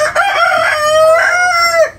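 A rooster crows in a backyard poultry farm with chickens kept indoors in their shed, one long clear call lasting about two seconds, loud and close with no talking.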